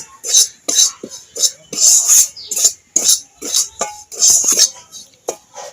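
Flour and semolina being dry-roasted in a pan, with a spoon scraping and clinking against the metal in a steady series of close, brisk stirring strokes.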